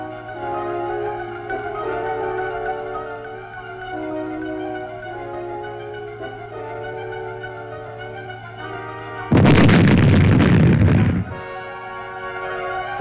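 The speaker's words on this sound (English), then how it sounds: "these mines were destroyed by demolition experts using charges of plastic explosives" Plastic explosive charges detonate buried Chinese communist mines in one sudden, loud blast with a roaring rumble that lasts about two seconds, heard after a stretch of steady background music.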